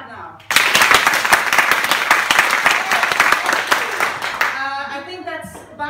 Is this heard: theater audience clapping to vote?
yes